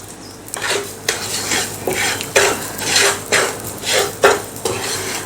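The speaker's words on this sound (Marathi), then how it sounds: "आपण या पॅनमध्ये एक चमचाभर तूप घालूया आणि या तुपावरती आपल्याला ही वरई छान असा लालसर रंग येईपर्यंत भाजून घ्यायची आहे" Barnyard millet roasting in a spoonful of ghee in a pan, stirred with a spoon: regular, close scraping strokes against the pan at a steady rhythm, with no voices.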